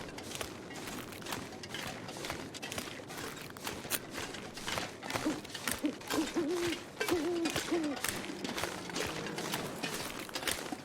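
An owl in The Long Dark survival game gives a run of soft, repeated hoots midway through, set against dense crunching footsteps and wind-like game ambience, with no voices.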